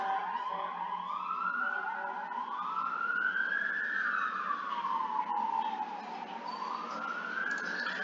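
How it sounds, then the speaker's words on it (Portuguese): An ambulance siren wails as it passes by, its pitch slowly rising and falling in long sweeps. It sounds fairly distant and faint, with no talk. "estava passando uma ambulância aqui, a gente não estava conseguindo falar."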